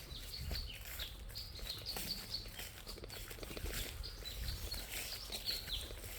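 Several small birds chirp and tweet in short, repeated bursts, faint and somewhat distant over a soft outdoor background, with no talking.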